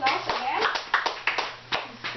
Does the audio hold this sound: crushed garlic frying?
no